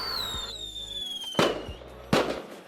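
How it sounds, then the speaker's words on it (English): Two sharp, loud fireworks bangs a little under a second apart, each ringing out briefly, over a steady background hum and a faint high whistling tone. "Fireworks literally blew up the moment I said that."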